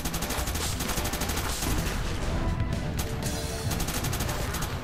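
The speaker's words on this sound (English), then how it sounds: "I don't know why I picked up that assault rifle" Rapid continuous assault rifle fire in the Crimsonland shooter game, a dense unbroken rattle of shots at a steady loud level throughout.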